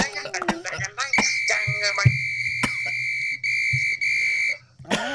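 Someone whistles during a talk show, giving a string of short chirps followed by sustained, bright held notes. The notes break briefly and then resume, standing clearly above a faint low background.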